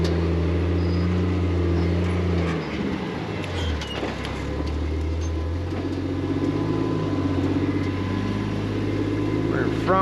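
Off-road buggy engine droning steadily as the vehicle drives a rocky trail, low continuous rumble with a brief dip and rev change midway, recorded up close.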